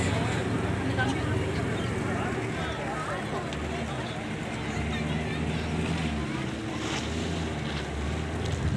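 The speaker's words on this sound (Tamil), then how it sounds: "போட் கிளம்பிருச்சு." Small eight-seat tour boat pulling away at a coastal boat house, a steady broad motor-and-water rumble with wind buffeting the microphone and waves washing throughout, voices talking over it.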